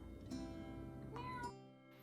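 A pet cat gives a few short meows up close in a quiet kitchen, one clear call in the middle followed by a brief trailing cry.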